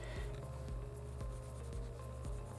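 Pen drawn across fabric for a simple sewn face mask, a soft steady scratching stroke with small rhythmic scrapes, close and faint over a low background hum.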